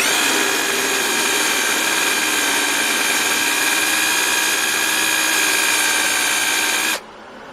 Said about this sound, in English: Right now I'm just drilling into the shaft, and this is for my homemade lathe project.